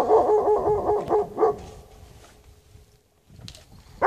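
A guard dog at a cottage barks in a quick run of loud, close barks, falls quiet, then breaks out again sharply at the end.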